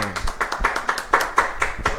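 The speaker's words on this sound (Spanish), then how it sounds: "con ese fuerte aplauso recibimos acá en nuestro escenario ya a Gilberto Brito" Strong applause from an audience welcoming a guest onto a stage, sharp hand claps in a quick irregular rhythm, close and fairly loud, heard alone without talk.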